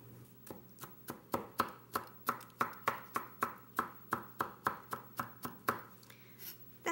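A knife chops broccoli by hand on a cutting board in a steady rhythm of about twenty close, crisp thuds, evenly spaced and fairly quiet, with no talking.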